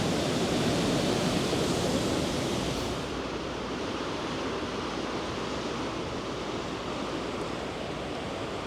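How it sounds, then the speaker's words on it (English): Thornton Falls rushes in the rain, a loud, dense, steady roar of falling water that stays constant throughout, easing slightly in level partway through. "So that's the waterfall I'm heading towards."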